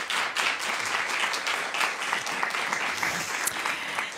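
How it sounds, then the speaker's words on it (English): Audience applause at a panel event on language learning, dense steady clapping from a seated crowd that carries on evenly for several seconds without speech. "Please give them a round of applause."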